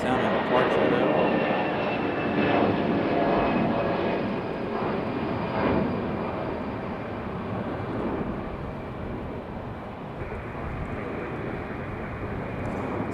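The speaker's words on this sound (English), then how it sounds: "This one is A220 leaving heavy." An Airbus A220 jet taking off heavy, a continuous loud engine roar with a high whine that slowly eases as it climbs away, with a voice talking over it.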